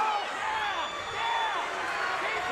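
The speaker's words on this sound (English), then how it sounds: "crowd on their feet after that one." Crowd roaring and cheering at a Shamrock FC mixed martial arts fight, a dense, sustained wash of noise with a commentator's voice talking over it.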